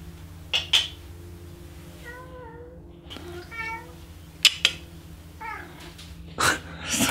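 A cat meows several times in a quiet indoor room, short rising and falling calls spaced apart, with a few sharp knocks and clicks in between over a low steady hum.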